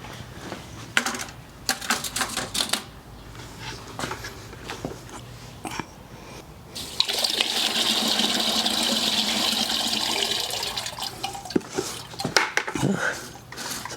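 Containers of clay being rinsed out with water during wet processing of clay, with scattered clinks and knocks of the containers, then a steady, loud rush of running water for several seconds, followed by more clattering.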